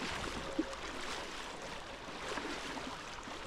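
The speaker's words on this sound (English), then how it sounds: "you cannot imagine the water here. It's running so fast." Fast-running water of the Treska river at Matka, a steady broadband rush of current heard faint and continuous, without speech.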